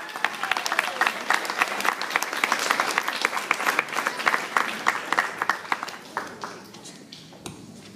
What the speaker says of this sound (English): Please give a round of applause for Adam Fisher and his Lego creation.